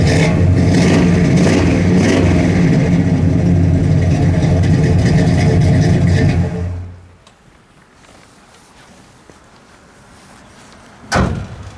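A 1967 Pontiac GTO's engine revs loudly with a throaty dual exhaust roar for several seconds, then cuts off, leaving near quiet before a brief thump.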